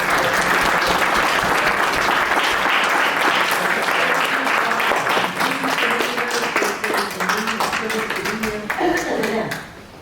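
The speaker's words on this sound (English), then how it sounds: "if we can just give a round of applause to our veterans." Sustained round of applause for veterans from a seated audience at a county commissioners' court meeting, a dense, steady wash of clapping that holds for several seconds and then tapers off at the end.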